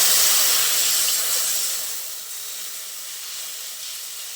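Water poured into a hot pan of potatoes and tomatoes erupts in a loud burst of steam and hissing that gradually settles into a quieter, steady simmering hiss.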